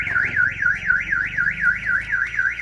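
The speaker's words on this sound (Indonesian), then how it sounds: "ini alarm masih fungsi ya, yang modelnya ala-ala smart key-nya Innova" Aftermarket car alarm on a Daihatsu Sigra sounding a loud, steady warbling siren that sweeps up and down in a fast repeating cycle, close by and alone with no talk.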